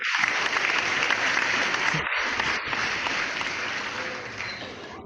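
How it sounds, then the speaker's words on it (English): Recorded applause and cheering from the University of Hartford cheering squad plays as a steady wash of clapping for several seconds, with brief dips in the sound. "That's the University of Hartford cheering squad to applaud us out of our meeting"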